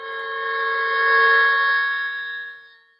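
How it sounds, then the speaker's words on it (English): Sustained car horn blast in a Doppler effect recording, a steady multi-tone chord that swells, then fades as the pitch drops slightly, heard alone. "Doppler effect car horn."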